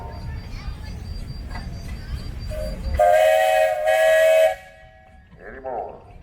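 A 1915 steam engine at a threshers festival sounds a loud, sustained steam whistle for about a second and a half, then gives a shorter fainter toot, after talk and crowd murmur beforehand.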